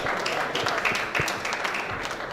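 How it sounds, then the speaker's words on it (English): Conference audience applauding for volunteers, with a dense, continuous wash of many hands clapping, fairly loud and steady throughout, with no clear voices on top. "A round of applause for them"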